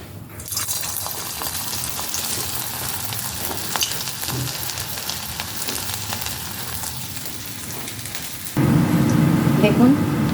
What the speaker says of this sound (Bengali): দেখুন বলগুলোকে দিয়ে দিয়েছি ভাজতে। আচ্ছা, আমি এগুলো স্যালো ফ্রাই করছি।